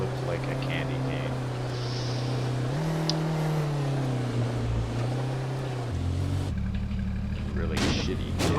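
A car driven in the H1Z1 battle royale video game, its engine a continuous droning hum that rises and falls in pitch as it drives, then shifts abruptly near the end.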